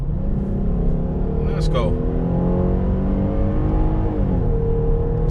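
A 2021 Dodge Durango SXT Plus 4x4 floored at full throttle, its engine droning loud and steady from inside the cabin as revs climb and shift, with a brief voice over the engine.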